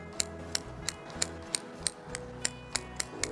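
Scissors cutting the long roots of a Scots pine bonsai during repotting: about a dozen sharp, crisp snips at a steady rhythm, close and faint, with no talk.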